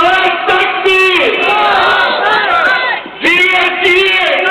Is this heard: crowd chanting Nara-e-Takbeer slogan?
yes